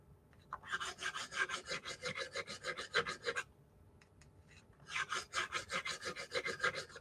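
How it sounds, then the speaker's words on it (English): A finer-grit file rasps over stainless steel guitar frets in quick, even back-and-forth strokes, forming two bursts of close, crisp scraping with a short pause between them. "I'll go in with a finer grit of the file."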